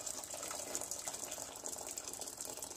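Tap water runs steadily into a cooking pan as it is filled for boiling, a continuous close splashing gush with no talk over it.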